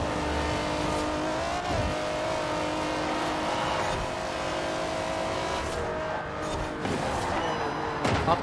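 A BMW 850CSI's engine roars through a road race in Forza Horizon 4, holding a continuous loud drone with small pitch shifts as it shifts and revs, while other cars whoosh past.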